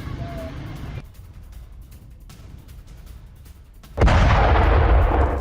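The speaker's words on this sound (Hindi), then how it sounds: "यमन में इजराइल ने की भीषण एयर स्ट्राइक।" Israeli airstrike explosions in Yemen, around Sanaa, where a Houthi missile depot was targeted. A low background gives way to a sudden loud, sustained blast rumble that fills the last second and a half.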